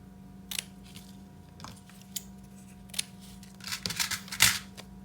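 Scissors snipping off the ends of ribbon or twine on a handmade paper tag, a few quiet, separate cuts spread over several seconds against faint background hum.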